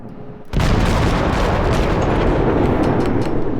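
Heavy naval guns of a St. Louis cruiser fire in World of Warships, a sudden loud boom that rolls into a sustained roaring rumble after a quiet start.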